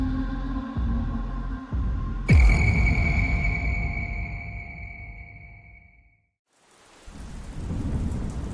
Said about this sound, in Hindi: रात के 10 बज चुके हैं। लगातार बारिश हो रही है।